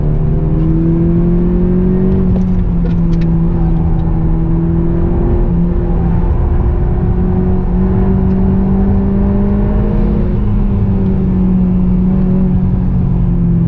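A VW Polo GTI lapping the Nürburgring Grand Prix circuit in traffic: loud, continuous engine drone from inside the car, its pitch rising and falling slightly as the car accelerates and eases off.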